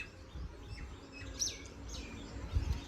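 Faint sparrow chirps come from some distance outdoors during a family pilgrimage on foot, a few brief high tweets over low rumbling background noise.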